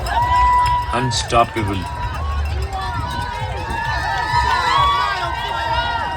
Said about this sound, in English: Just look at the energy of the crowd.